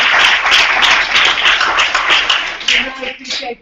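An audience applauds presenters at a keynote discussion, a dense burst of many hands clapping that fades out near the end, with a voice speaking over it.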